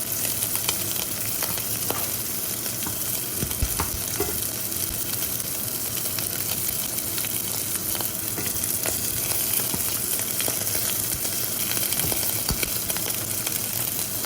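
Beef trimmings frying in a pan to render off the fat, a dense, continuous close-up sizzle and crackle with small pops throughout and no talking.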